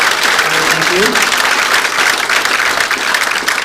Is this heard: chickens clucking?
no